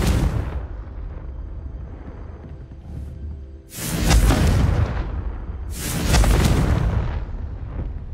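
The Confringo fire spell explodes in the game Hogwarts Legacy, producing two heavy booming blasts a couple of seconds apart, each rolling off into a rumbling tail over a low background.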